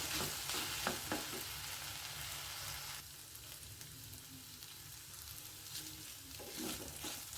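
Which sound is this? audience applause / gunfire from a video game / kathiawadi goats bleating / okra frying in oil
okra frying in oil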